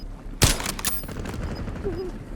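A single loud, sharp sniper shot in Call of Duty Warzone rings out, followed by a second crack and fading echoes over low game ambience.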